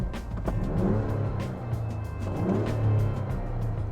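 A 2023 Ford Bronco Raptor's exhaust revs in sport mode, a deep steady engine drone with two swelling rev rises, heard close from inside the cabin.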